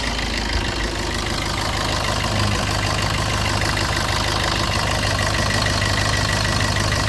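A Maruti Brezza ZDI+ diesel engine idles steadily with the AC running, a continuous close rumble with a faint knocking texture and no voices.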